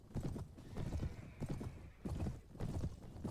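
Horse hooves clip-clop in the video game Clash of Kings, a close, loud and steady walking rhythm of repeated thudding hoofbeats with no talk.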